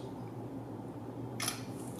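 A shutter click from a Lenovo K5 Plus budget smartphone camera snaps once near the end, brief and crisp over a low background hum.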